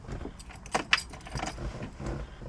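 Car keys jingle and clack near the ignition of a 1975 Volvo 245 16v turbo resto-mod, with a couple of sharp metallic jangles standing out among quieter handling sounds at close range.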